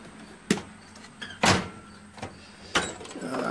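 Full-extension drawers on a machinist's tool chest slide and bump in a workshop, several sharp clacks and rolling slides spread across a few seconds, close by.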